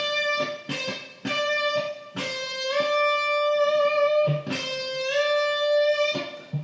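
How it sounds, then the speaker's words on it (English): An electric guitar note is bent up a whole step, the pitch sliding smoothly upward and sustaining; several picked notes and bends repeat in a steady phrase, close and clear with no talking. "If I'm doing a whole step bend"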